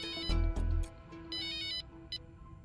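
A telephone rings on a call being placed, a repeating electronic ringtone pattern with two louder bursts and steady tonal tones, no talking.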